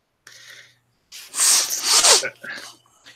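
A single explosive sneeze bursts out up close, followed by a snort and sniff, with a low hum and brief talk around it.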